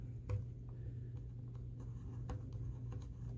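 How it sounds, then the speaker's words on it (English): A pencil scratches out curved arches on paper for a Baby Yoda bookmark, close and continuous, with light strokes and a few sharper ticks over a steady low hum, no talking. "I'm going to use a pencil"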